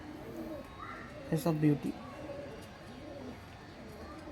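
Pet pigeons perched on a pigeon stand give a short burst of soft cooing, a few throaty notes close by, while someone speaks quietly in the background.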